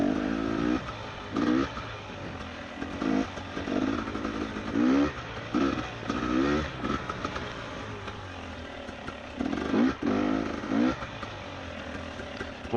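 A two-stroke motorcycle engine revs again and again while being ridden, its pitch rising and falling in repeated bursts of throttle and settling between them. The engine sounds close and loud and runs without talk for most of the stretch.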